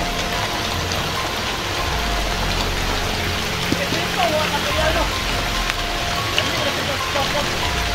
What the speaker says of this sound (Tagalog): Sobrang ulan na dito mga kaidol.